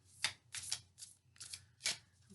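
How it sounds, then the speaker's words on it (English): Oracle cards are shuffled close by in several quick crisp riffles, short papery bursts in an uneven rhythm with no talking. "we'll just shuffle them up here"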